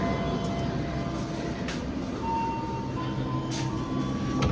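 Inside an executive class train carriage on a moving train, a steady low rumble and hum of running wheels fill the space continuously, with no voices.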